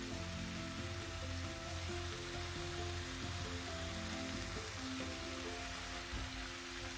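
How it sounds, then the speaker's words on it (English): Cashew paste frying in a tomato and turmeric masala for cauliflower tikka masala, a steady close sizzle with soft crackling that runs without a break and has no voices over it. "We need to fry this"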